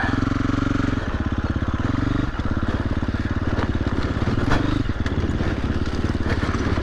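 A motorcycle engine bursts into revs from an accidental throttle twist, its loud, close, rough throb surging and dipping in pulses over wind and road noise.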